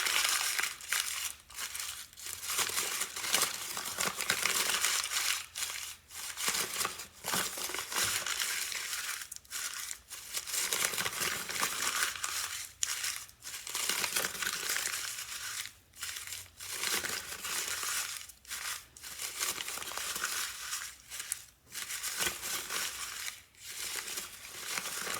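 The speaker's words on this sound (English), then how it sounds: "I'm going to go ahead and crumple it up" Paper treasure map crumpled by hand, crackling and crinkling in long continuous bursts broken by short pauses, close and clear with no talking.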